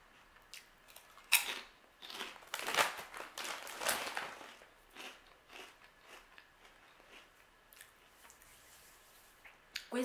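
Crisp, bitten chickpea and lentil chips seasoned with paprika crunch close to the mic in a quiet room, with several sharp bites followed by softer chewing and rustles.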